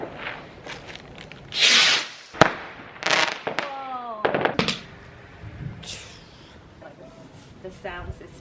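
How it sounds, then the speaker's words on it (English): Home fireworks on Fireworks Night in the garden of an old English townhouse: a string of sharp bangs, a loud crackling burst and whistling rockets with rising tones, set against faint background noise, some bursts near and others farther off. "a mini firework display at home on Fireworks night"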